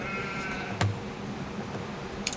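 Sheep bleat in the Age of Empires video game, a single short bleat standing out over a steady low game-ambience bed, with a faint second call near the end.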